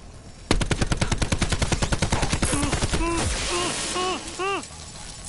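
A loud rapid machine-gun burst in Call of Duty Black Ops 4 fired at an approaching enemy, about two seconds of evenly spaced shots, followed by whirring mechanical and electronic game effects.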